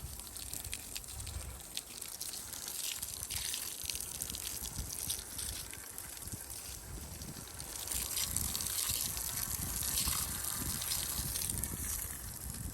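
Garden hose spraying water onto freshly burnt, smoking wood: a steady broadband hiss and splatter that runs for the whole stretch, fairly close and even, swelling slightly louder toward the end, with no voices.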